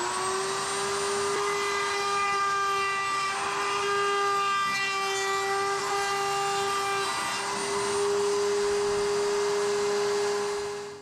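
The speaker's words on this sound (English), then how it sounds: "I do have my Gasman air filter, so I'm going to turn that on." Workshop air filter running nearby, a steady loud mechanical hum with a constant fan whine that holds unchanged throughout before cutting off at the end.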